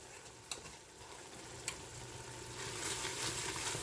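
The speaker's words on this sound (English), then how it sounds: "And we're going to give that a mix." A spoon stirs a pot of homemade Irish potato soup seasoned with onion powder, making a soft scraping swish with a couple of sharp knocks against the pot, growing a little louder toward the end.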